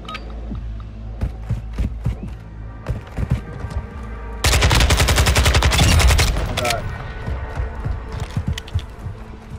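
Gunfire in the video game Warzone DMZ: scattered single shots and clicks, then a sustained loud burst of rapid automatic fire lasting a couple of seconds, followed by more sporadic shots.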